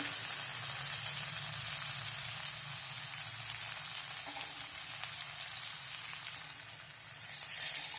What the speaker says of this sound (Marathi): कांदा चांगला भाजून घ्यायचा कांदा छान भाजला गेलेला आहे त्याच्यामध्ये हा टोमॅटो